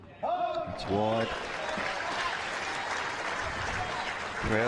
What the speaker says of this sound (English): Crowd responding as well.